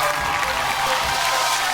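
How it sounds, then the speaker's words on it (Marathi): Loud, steady applause from a studio audience on a women's game show, a dense wash of clapping filling the entire stretch with no talk over it. "जोरदार टाळ्या होऊन जाऊ दे"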